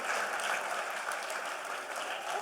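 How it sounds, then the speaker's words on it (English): An audience applauds continuously in a talk setting, a dense, steady clatter of many hands at moderate distance, holding an even level throughout without pauses or voices. "a round of applause for all the Punjabis here"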